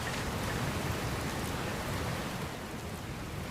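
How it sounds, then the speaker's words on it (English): A steady rainstorm pours in Dragon Quest Builders 2, a dense, even hiss of rain on surfaces with a faint low rumble, loud and constant throughout with no voices. "Oh no, not the rain."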